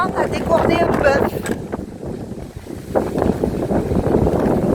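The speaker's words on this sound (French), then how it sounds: "Ah, on a le vent de face." Strong wind buffets the microphone in a steady, roaring rush, with a voice speaking faintly underneath.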